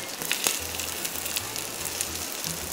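Tofu skin fries in a pan until crisp, giving soft, scattered crackles and pops over a low steady hum, fairly quiet and close.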